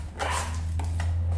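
Small neighbourhood dogs barking in a home: several short, sharp yaps at a middle distance over a steady low hum.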